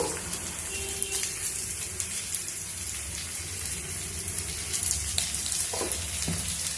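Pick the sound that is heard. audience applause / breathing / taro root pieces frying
taro root pieces frying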